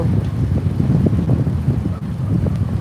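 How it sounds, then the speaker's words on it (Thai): Strong seaside wind buffeting a microphone on a morning outing by the sea: a loud, low, gusting rumble that rises and falls unevenly, with no clear speech. "ถ้ามาทางนี้ลมจะแรง"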